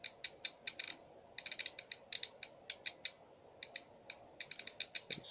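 Clicking detents of the voltage adjust knob being turned on a faulty Tenma 72-10495 twin power supply: many small sharp ticks in uneven bursts, close and quiet, no talking.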